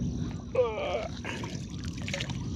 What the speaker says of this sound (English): So I'm just going to have to paddle away a bit.